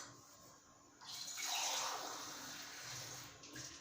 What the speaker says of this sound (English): I am putting 2 cups of water.